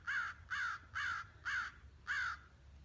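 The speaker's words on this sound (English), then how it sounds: "I'm going to let the crow have his time on the video," A crow caws five times in a steady, regular rhythm, each call rasping and similar in length, heard at a moderate distance above a faint low rumble.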